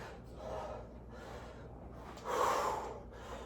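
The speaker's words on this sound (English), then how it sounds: "as you can hear me like gasping for air" A fitness instructor breathes hard and gasps for air mid-workout during a total body conditioning session, with heavy breaths swelling and then one louder gasp near the end, close to the mic and with no talking.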